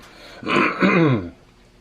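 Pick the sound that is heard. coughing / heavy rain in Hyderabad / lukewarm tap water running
coughing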